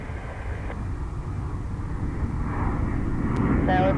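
A JetBlue airliner takes off from runway 22 right at JFK, its jet engines producing a steady, broadband roar that gradually grows louder and fills the clip.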